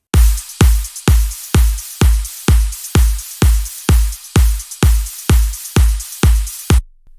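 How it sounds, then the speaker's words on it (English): An electronic drum loop with a punchy kick on every beat and bright hats and snare layered above, repeating steadily before stopping abruptly. "All together, all the drums sounds like this."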